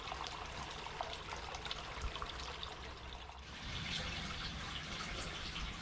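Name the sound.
koi pond water churning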